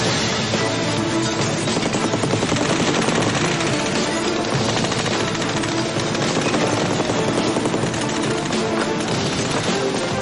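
A shoot 'em up video game scene with a helicopter and gunfire, filled with a dense, unbroken wall of rotor roar and rapid machine-gun fire that stays loud throughout without pause.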